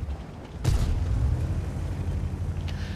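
Artillery shell explosion in World of Tanks, a single loud boom with a deep low rumble that lingers and fades, alone without talk.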